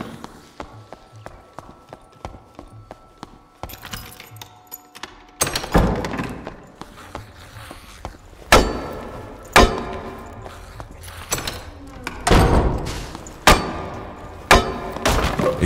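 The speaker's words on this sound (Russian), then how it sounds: "Еще чел топает." Player footsteps in the video game Dark and Darker, a character walking on metal: a steady run of thudding footfalls that grows louder and heavier partway through, with sharp clomping impacts near the end.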